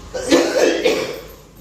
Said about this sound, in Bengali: সবার কাশি